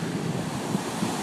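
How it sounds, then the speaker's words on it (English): Ocean waves crash on the shore under stormy skies, a continuous rushing roar of surf mixed with wind buffeting the microphone and no speech. "look how much the waves are crashing"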